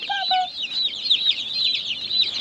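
Baby chicks on a farm make a dense, continuous chorus of high, rapid peeping, close and loud, with a couple of brief lower clucks near the start.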